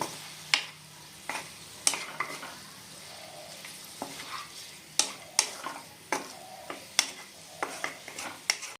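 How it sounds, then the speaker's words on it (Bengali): A utensil stirs pea greens together with fried eggplant in a pan over a faint, steady frying sizzle, making repeated sharp scraping clicks at an irregular pace, with no speech. "এখন বেগুনগুলোর সাথে শাকটা ভালো করে একবার মিশিয়ে নেব।"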